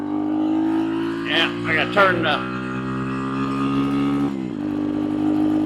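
A Nibbi PE26 carburetor engine hums at a steady high idle on an RPS racer test run, with brief rev blips and a dip near the end, while someone talks over it close by.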